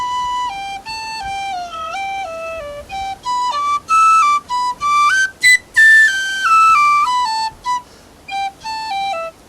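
An Irish tin whistle plays a phrase of Willie Coleman's Jig solo, lively and bright, stepping notes with short breaths between runs, clear and close.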